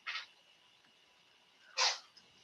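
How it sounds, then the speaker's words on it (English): A cat sneezes twice in a quiet room, two short sharp bursts about a second and a half apart, the second one louder, followed by a faint little snort. "Sneezy kitty."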